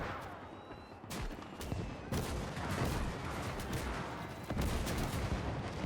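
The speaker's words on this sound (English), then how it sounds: "The CIS guns in the rear are shooting." Artillery guns firing in a Gates of Hell winter trench battle, a dense, continuous barrage of overlapping booms and gunfire at moderate distance, with heavier blasts landing around the first, second and fifth seconds.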